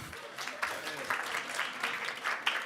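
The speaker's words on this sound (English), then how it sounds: "Give him some applause, please." Audience applause for a speaker at a European Union intellectual property conference: a steady, fairly faint wash of many hands clapping at some distance, lasting under three seconds.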